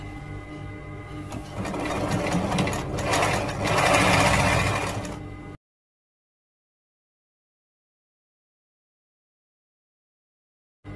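A sewing machine stitches a men's gusseted robe, running in a continuous whirring burst that swells in speed before stopping abruptly into silence.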